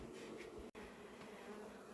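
Dense, steady buzzing of many honeybees around new beehives, crawling back into the hive, a continuous hum with a momentary break.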